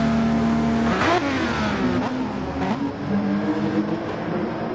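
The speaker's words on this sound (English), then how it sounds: "Listen to that engine." A race car engine revs hard on a track, a loud close roar that climbs and drops through several sharp throttle blips, with no talking.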